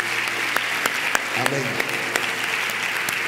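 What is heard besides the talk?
audience applause welcoming a group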